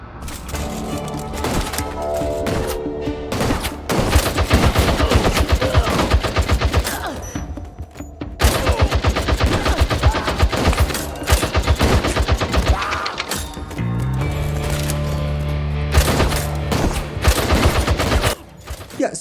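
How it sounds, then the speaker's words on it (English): Rapid, loud bursts of gunfire ring out at a shooting gallery in the VR game Peaky Blinders: The King's Ransom, with long rattling volleys broken by short pauses and sharp single shots between them, and no one talking. "And you also have some shooting gallery games with different weapons"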